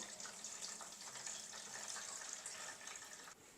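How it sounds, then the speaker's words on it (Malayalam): Water is poured into the tank of a Kooper air cooler, a steady soft splashing stream that stays faint and fairly even throughout, with no voices. "അപ്പോൾ നമുക്കിതിൽ ഇച്ചിരി വെള്ളം ഒഴിച്ചു കൊടുക്കാം"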